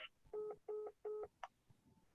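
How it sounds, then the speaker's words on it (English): Three evenly spaced telephone keypad DTMF tones punch in a meeting ID, each short, clear and close, followed by a brief higher blip and faint fading tone. "Please re-enter your meeting ID followed by pound."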